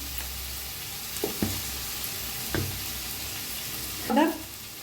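Tomatoes and onions fry in a pan with a steady soft sizzle, punctuated by a few sharp clinks and scrapes of stirring.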